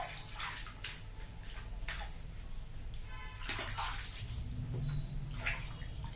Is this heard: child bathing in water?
yes